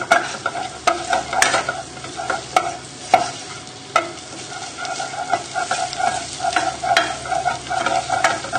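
Butter stirred into a thick onion gravy made with beef stock, a spoon knocking and scraping against the pan in uneven strokes over a bubbling sizzle, close and clear.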